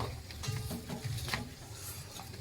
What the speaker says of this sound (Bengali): এবার দেব কড়াইতে জিরা